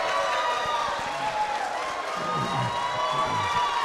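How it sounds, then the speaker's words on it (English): Applause and cheering from the audience at a Democratic mayoral debate in New London, a dense crowd roar of clapping and voices filling the hall, loud and sustained throughout. "Please withhold the applause, both sides."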